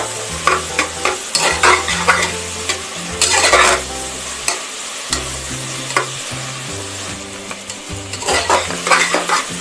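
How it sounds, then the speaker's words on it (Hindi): Ginger garlic paste sizzles and fries in a pan while a spoon stirs it constantly, bright hiss broken by repeated scrapes and clinks of metal on the pan, no voices. "अब इसमें ऐड करेंगे अदरक लहसुन का पेस्ट, इसे भी हम लगातार चलाते हुए 1 मिनट तक भून लेंगे।"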